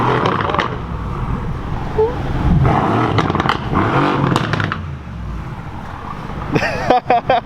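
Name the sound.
sports car exhaust revving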